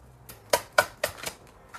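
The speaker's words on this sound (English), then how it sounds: "And while I'm shuffling" Oracle cards are shuffled by hand in a quiet room, giving a handful of soft, crisp riffling snaps in an uneven rhythm, close and fairly faint, with no talking.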